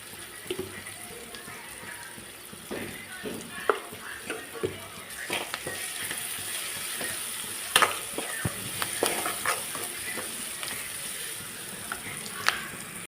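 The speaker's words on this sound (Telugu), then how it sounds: "టమాటాలు, ఉల్లిపాయలు, పచ్చిమిరపకాయలు నూనెలో బాగా మెత్తగా వేగిపోవాలి" Tomatoes, onions and green chillies fry in oil for Rayalaseema uggani bajji, giving a soft, continuous sizzle with scattered clicks and spoon scrapes that stays fairly quiet throughout.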